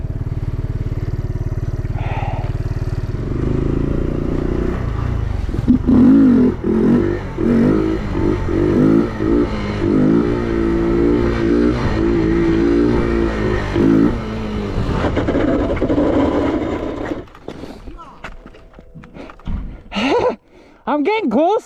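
Motorcycle revving and accelerating during stunt practice with a one-finger clutch lever, loud engine surges rising and falling for several seconds, then dropping to idle and brief blips, with a voice talking in between.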